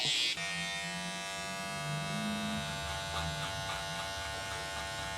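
Electric hair clippers tapering and cleaning up a haircut, a continuous close buzzing hum with faint pitch shifts as the blades meet hair, running alone without speech.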